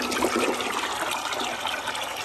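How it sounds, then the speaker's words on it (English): Water pours steadily into a container with a constant rushing, splashing hiss that holds at the same level throughout, close by and alone. "Okay, I gotta fill up the water."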